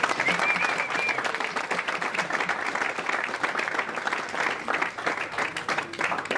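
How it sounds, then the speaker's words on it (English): An audience at a baseball club's 50th anniversary gathering applauds, a dense, steady wash of many hands clapping that holds at full strength throughout, near and loud. "Ladies and gentlemen, a round of applause please for John Martin."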